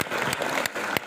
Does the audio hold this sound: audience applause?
yes